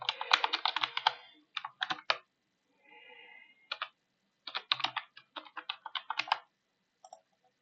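Bursts of typing on a computer keyboard while entering details into an airline booking system, with clustered rapid key clicks, short pauses and a faint hum between runs, close and clear.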